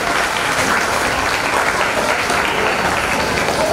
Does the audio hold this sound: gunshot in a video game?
no